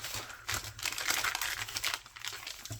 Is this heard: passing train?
no